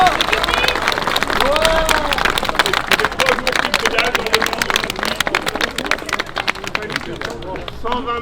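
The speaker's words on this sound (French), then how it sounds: "je crois qu'il mérite vraiment vos applaudissements" An outdoor crowd applauds and cheers a rider finishing a Paris–Rouen velocipede ride, steady dense clapping with voices talking over it throughout.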